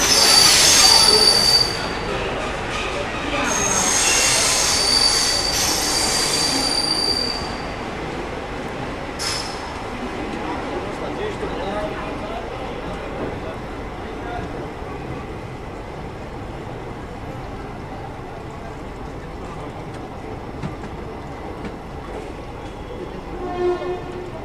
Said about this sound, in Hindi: ट्रेन चल गई, चलो।